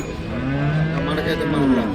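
An ox at the Punganur cattle market lets out a drawn-out, close moo over a low murmur of market background noise.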